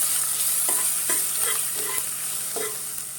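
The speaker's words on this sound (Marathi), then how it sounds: "कांदा चांगला भाजून घेऊया" Sliced onions frying with salt in a pan for coconut milk pulao, stirred with a spoon: a steady close sizzle broken by several short scraping strokes, with no voices.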